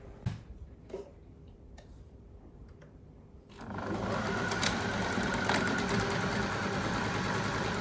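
Sewing machine stitching the sides of a fabric laundry basket: a few sparse clicks and handling taps, then a continuous close mechanical whir with rapid ticking that runs steadily to the end.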